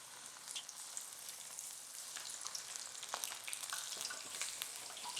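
Cauliflower pieces for sweet and spicy Gobi Manchurian fry in hot oil, giving a steady, bright sizzle with scattered crackles and pops close by, no talking over it.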